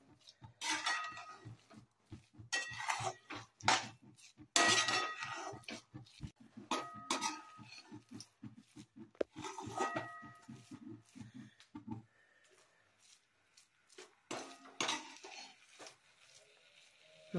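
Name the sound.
stirring ladoo mixture in a pan over low gas flame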